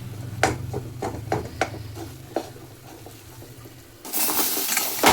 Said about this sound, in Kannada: ಪಾಕ ಆಗ್ತಾ ಇದೆ, ಈ ಕುದಿ ಬಂದಿದೆ ನೋಡಿ, ಈ ಥರ ಗುಳೆ